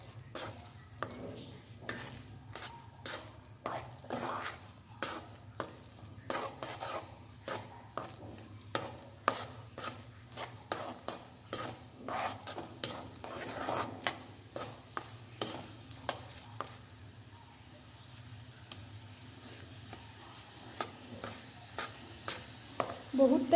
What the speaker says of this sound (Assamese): একদম গেছটো ল' কৰি এতিয়া মই এইখিনি লৰাই ভাজি থাকিম।